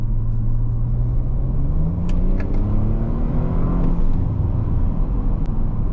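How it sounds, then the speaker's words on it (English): A straight-piped Audi RS5 engine rumbles deep and steady nearby, its low drone rising slightly in pitch partway through as if revving, with faint clicks on top. "absolutely amazing engine sound"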